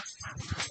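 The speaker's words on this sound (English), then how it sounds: "The dogs are playing, so nice." Dogs play in a video game, giving quick yips and whimpering whines close by in a rapid, uneven burst.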